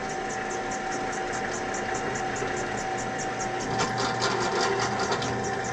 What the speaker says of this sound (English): Slowly drill that out.